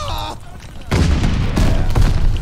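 Sticky bomb grenade blowing up in a shooter video game, a sudden loud burst followed by rumbling explosive noise and a second blast, with game audio throughout.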